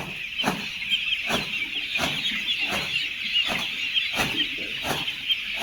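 A crowded flock of broiler chickens on a farm of about 4,000 birds clucks continuously, with sharper squawks breaking out every second or so over a busy background of bird noise.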